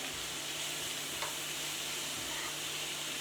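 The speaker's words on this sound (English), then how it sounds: "I put a bit of coconut oil in just because I want the onions to get nicely sauteed in there" Chopped onions sautéing in coconut oil in a non-stick pan, a steady close sizzle and hiss with light stirring, continuous and fairly loud with no talking.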